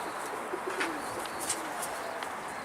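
Mardin tumbler pigeon cooing faintly in a few soft, low calls over steady outdoor background hiss, with faint chirps from other birds.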